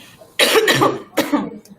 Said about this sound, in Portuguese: Desculpa a minha tosse.